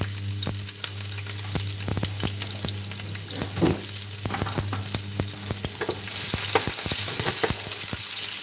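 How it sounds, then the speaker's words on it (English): Red pepper fries in hot oil in a pan while making cheese fire chicken, a steady close sizzle with stirring scrapes and clatter throughout, growing louder and hissier near the end. "So some oil, and then I'm going to fry my red pepper first, just to soften it."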